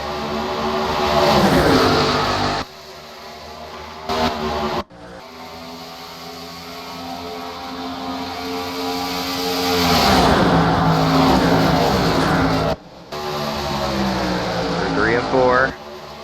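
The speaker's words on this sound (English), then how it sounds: "Green flag is back in the air." Race cars in a 2008 stock-car racing video game roar back up to speed on a green-flag restart at Charlotte, a loud continuous engine drone rising and falling in pitch, with a few abrupt cuts and a brief tire squeal near the end.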